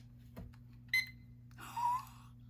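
A kitchen timer gives two faint, short electronic beeps a moment apart, quiet against a low steady hum in a room.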